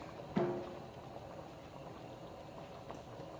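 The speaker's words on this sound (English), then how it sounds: "But my beans are cooking here." A pot of beans boiling on a stove gives a faint, steady bubbling simmer throughout, with a brief clunk near the start.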